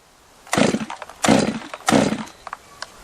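Three hard pulls on a Stihl 194T or Holzfforma G111 top-handle chainsaw's starter cord, each a close raspy burst about half a second apart, followed by a few faint clicks as the engine fails to catch.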